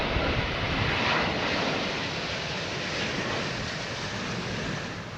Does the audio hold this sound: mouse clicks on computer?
no